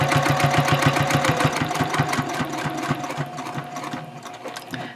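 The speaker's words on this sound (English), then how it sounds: "at the tops of all of these lines, you want to backstitch a few times" A domestic sewing machine stitches a messenger bag pocket and backstitches at the line tops, a rapid, steady mechanical chatter of needle strokes running close and loud, then slowing and stopping at the end.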